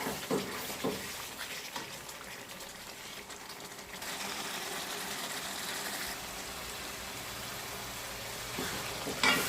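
Chicken sautéing in a pan with capsicum and ginger, a steady close sizzle and frying hiss with a few stirring clinks, continuous throughout with no talking.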